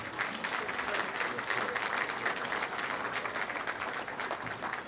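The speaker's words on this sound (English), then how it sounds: "Please give him a big round of applause." Steady applause fills a hall at an evening business hall of fame ceremony, a large audience clapping continuously at moderate level, with faint voices underneath.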